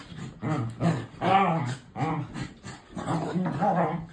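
A dog growls and whimpers in repeated throaty, moaning bursts close by, forming a continuous string of vocal grumbles with short pauses between them.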